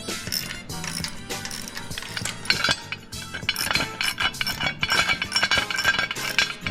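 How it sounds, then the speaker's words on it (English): Ratchet wrench clicking as it loosens 7/16 breather bolts on a motorcycle during an air cleaner kit install, a dense run of metallic ratcheting and clinks with tool knocks, fairly close and continuous, no talk. "Take the breather bolts off."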